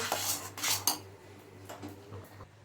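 Mango pickle being stirred with added sugar in a bowl, a spoon scraping and clinking against the container in a few quick bursts, close and moderately loud, then softer scraping.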